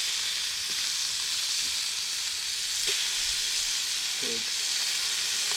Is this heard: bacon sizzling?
yes